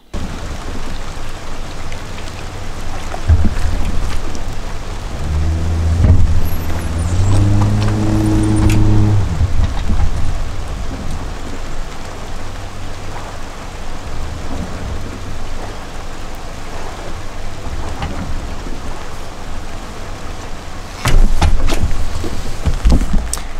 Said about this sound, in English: It might be the rain that chased me off the water.